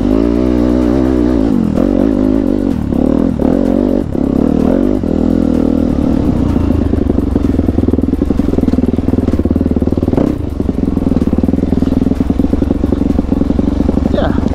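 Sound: trail motorcycle riding off-road

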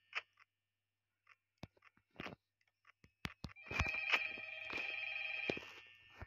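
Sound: telephone ringing in the video game Five Nights at Freddy's

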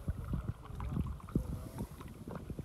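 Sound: canoe paddling on a river

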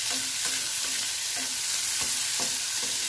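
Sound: frying vegetables for chilli potato

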